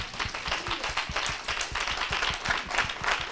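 A church congregation claps in a quick, steady beat, many hands together at moderate volume, with no voices.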